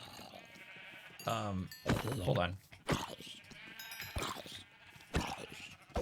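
Minecraft sheep bleat in the video game, several wavering nasal baas rising over a voice as he talks excitedly between them.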